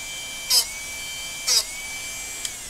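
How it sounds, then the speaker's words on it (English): A Darex Drill Doctor 750X sharpener grinds a drill bit in two short, high, buzzing bursts about a second apart, followed by a faint tick, over a steady thin whine and no voices. "you can hear the grind sound get a little bit less"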